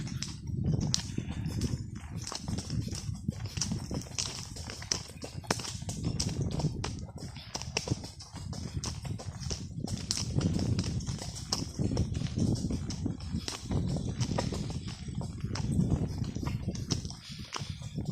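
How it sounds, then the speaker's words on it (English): Older horses walk steadily, their hooves clip-clopping in a continuous, close rhythm for the whole stretch, with no talk over it. "These are a couple of the older horses."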